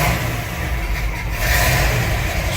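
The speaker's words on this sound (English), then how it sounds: "let's go for engine start" A 1966 Chevy truck engine rumbles and revs in a loud, continuous low growl up close, rising slightly partway through, with no voices.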